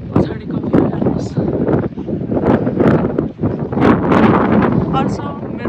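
Strong wind buffets the microphone on a ferry ride to the Isle of Wight, a loud, gusty roar that rises and falls throughout, with someone talking over it.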